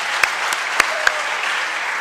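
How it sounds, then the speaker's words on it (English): An audience at a school morning meeting claps steadily, with a few sharp, louder individual claps standing out from the even wash of applause. "give another round of applause to Ms."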